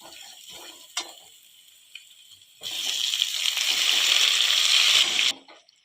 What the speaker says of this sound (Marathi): मेथीची भाजी घातल्यावर आपल्याला एखाद मिनिटभर चांगली तेलात परतून घ्यायची आहे